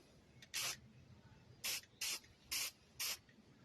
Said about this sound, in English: And again, I'll spray into this.